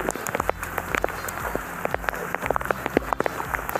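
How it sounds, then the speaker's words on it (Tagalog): Heavy typhoon rain patters on a surface with dense, irregular drops and splashes, steady and close, under a low background rumble. "sobrang lakas ng ulan"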